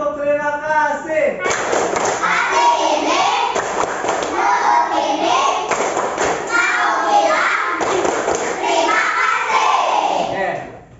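A class of Indonesian schoolchildren performs the thank-you clapping chant, voices rising and falling in a sing-song pattern punctuated by repeated hard claps and thuds, close and energetic.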